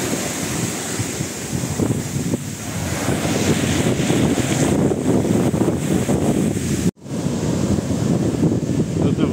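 Sea waves wash steadily onto the beach at Porto Katsiki on Lefkada, a loud, continuous broadband surge with wind buffeting the microphone, briefly cut off near the end before resuming.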